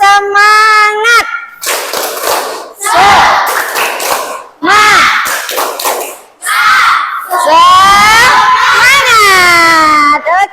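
Schoolchildren in a classroom perform a rhythmic clapping chant, loud bursts of claps and shouted voices alternating with a teacher's speech between sections.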